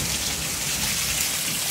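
Steady, heavy rain from a violent thunderstorm with hail and strong winds pours down, a dense continuous hiss with a low rumble beneath, unbroken throughout.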